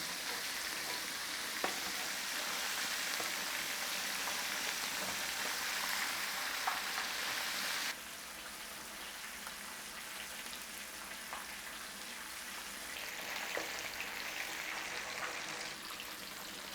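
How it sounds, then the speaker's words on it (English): Fish sizzles steadily as it deep-fries skin-side down in hot oil in a pan. A dense, continuous crackling hiss with small pops is heard up close, its texture shifting slightly midway. "Let the oil go underneath, crisp up the skin, because if not, the fish is going to stick to the pan."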